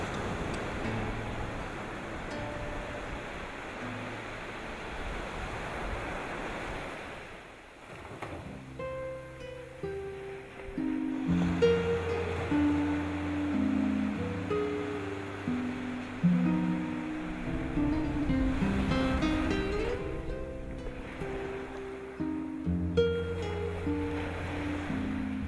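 Ocean surf rolls onto a beach as a steady broadband wash, loudest in the opening seconds, then continues under music that enters and dominates the rest.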